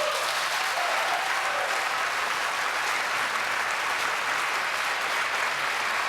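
Applause from a debate audience, a dense continuous wash of clapping that stays loud and steady from start to finish, with no pauses.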